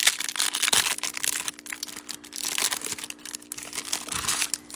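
Foil wrapping of a pack of 30 Panini Chronicles football trading cards from a hanger box crinkles and tears open up close, a steady run of sharp crackling and ripping with small pauses.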